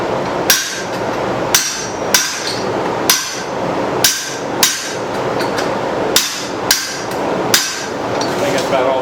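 Hot steel is hammered on a forging guillotine while shaping a spoon, sharp ringing blows about once a second, some in quick doubles, loud and close over a steady background hum.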